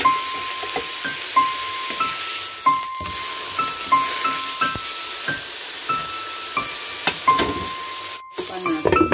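Meat simmers in a pot on a stove, giving off a steady hiss with soft bubbling and small pops and ticks, then a brief clatter close to the end.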